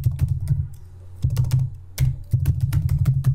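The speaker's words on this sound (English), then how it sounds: "So I'm just going to type events and activities" Typing on a computer keyboard, a close, steady patter of key clicks in short bursts with brief pauses, heard alone without talk.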